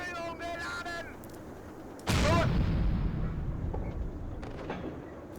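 A StuG III assault gun in Steel Fury fires a high explosive shell, one loud, heavy boom with a lingering rumble, after someone talking over the steady engine drone.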